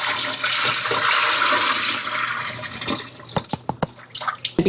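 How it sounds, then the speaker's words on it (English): Water rinsed from kale and romaine pours from a salad spinner into a kitchen sink, a loud rushing gush that thins into scattered splashes and drips. "And I'm going to empty it out in the sink."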